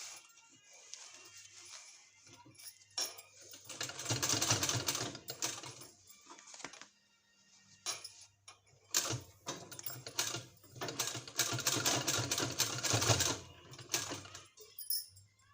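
Sewing machine stitching a trouser seam for a palazzo-style pant, running in two long bursts of rapid mechanical clatter with a brief pause between, fairly close and steady.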